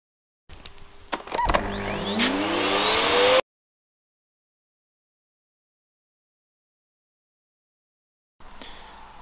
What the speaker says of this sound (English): I'll hit this with a wire wheel